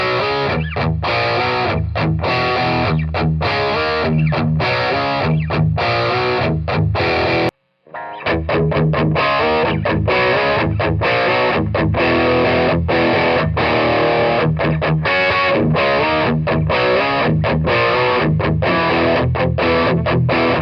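Electric guitar played through a Boss Katana MkII amp with the speaker swapped back and forth between a Tonker and the stock speaker: loud, continuous distorted riffing with choppy rhythmic stops, a brief full silence near the middle, then playing resumes.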